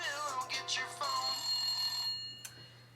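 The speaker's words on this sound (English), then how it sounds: "I've been playing that ringtone all day" A phone ringtone plays loudly with a bright, tonal melody over a steady low hum, then stops and leaves a short quiet tail with a brief click near the end.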